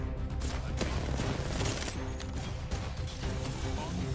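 Gunfire crackles nearly nonstop in an Apex Legends match, dense bursts and rapid shots stacked over one another at steady loudness for the whole stretch, with voices mixed in.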